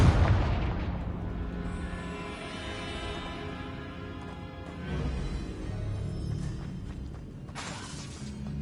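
Hogwarts Legacy's Confringo fire spell erupts in a heavy explosive boom, followed by a long rumbling, crackling tail and a second swelling burst with sharp shattering debris near the end; loud and close, with no talking.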